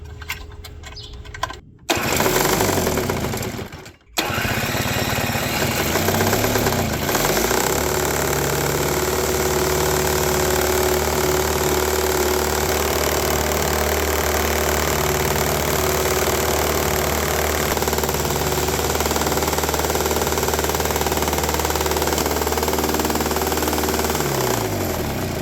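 A Toro S-200 snowblower engine, pulled from the curb and revived, starts after a couple of brief attempts and then runs continuously, loud and raspy through an obnoxious, ineffective muffler, close by for over twenty seconds.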